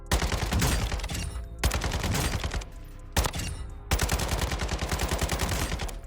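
Rapid automatic fire from the Cast-Off 7.62 rifle in the online shooter Warzone, loud sustained bursts of shots in four stretches with short pauses between them, nothing else heard.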